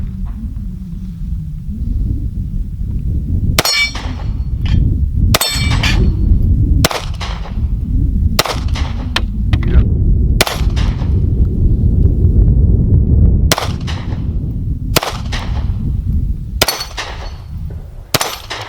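Repeated gunshots from a Smith & Wesson CSX 9mm pistol ring out at an outdoor range, about nine sharp loud reports spaced irregularly over a steady low rumble of wind and background noise.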